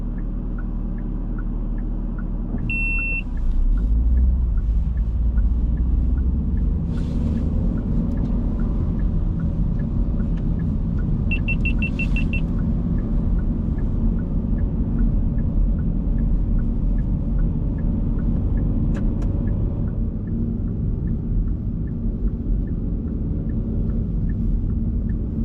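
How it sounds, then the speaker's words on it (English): Manual car engine held in first gear, revving high and loud through a steady, continuous drone that barely changes for the whole stretch, with a couple of short electronic chimes near the start. "you can hear my car screaming as it remains in first gear."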